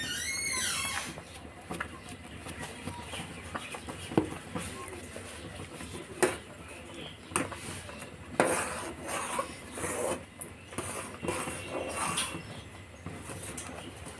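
Powdered milk is stirred into vermicelli in a pot for Bangladeshi milk shemai, with a spoon scraping and clinking against the metal at irregular intervals, a few sharp knocks standing out over quiet background and faint birdsong.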